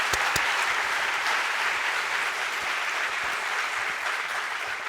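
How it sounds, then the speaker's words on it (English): Audience applause at an awards and closing ceremony: steady, sustained clapping from a large crowd, moderately distant and even in level, with a few sharper individual claps standing out near the start. "So I guess a round of applause for everyone."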